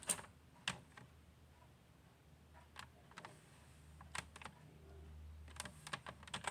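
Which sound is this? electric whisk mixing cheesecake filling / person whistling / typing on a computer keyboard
typing on a computer keyboard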